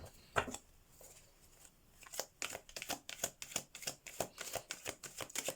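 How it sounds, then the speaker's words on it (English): Tarot cards being shuffled by hand during a card reading: a rapid run of crisp riffling snaps that start sparse and settle into a steady, close rhythm, with no talk. "while I'm shuffling the rest of the tarot cards"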